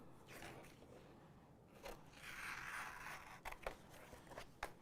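Cricut EasyPress application tape being cut to size, faint close snips and scraping strokes, a few sharp cuts near the end, very quiet.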